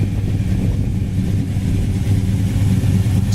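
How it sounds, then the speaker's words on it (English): A carousel red 1970 Pontiac LeMans GTO clone with a rebuilt 400 engine, headers and a 400 automatic transmission runs at a steady, deep idle, its low rumble close and continuous with no talking. "It's powered by a rebuilt 400 engine, backed up by a 400 automatic transmission"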